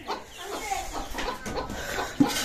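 Tiger chickens cluck softly and intermittently at morning feeding, with pigeons kept nearby, in a low, close, busy farmyard murmur broken by one brief sharper note near the end.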